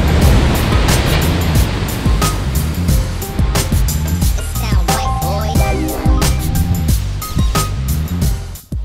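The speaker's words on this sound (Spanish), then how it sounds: "al alto y alocado oleaje que esta playa tiene" Rough open Pacific surf at Playa del Divorcio in Cabo San Lucas roars in a broad, continuous rush of breaking waves, heard from a boat with a low engine rumble beneath the wash.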